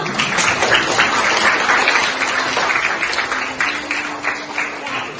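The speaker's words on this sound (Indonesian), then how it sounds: "Silakan berikan tepuk tangan buat kita semua." Students in an Indonesian classroom clap together after a group discussion, a close, lively burst of applause that stays steady for several seconds, then thins out toward the end.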